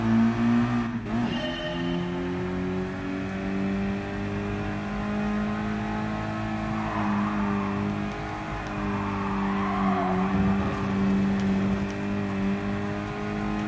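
A race car engine drones steadily at high revs in the Gran Turismo Sport video game, with shifting pitch as it accelerates and slows through turns, with faint tire noise, loud and continuous without talk.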